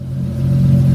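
Car engine idling after a coolant refill with new HPSI hoses fitted, the steady mid-pitched hum swelling slightly louder over one second, close and alone.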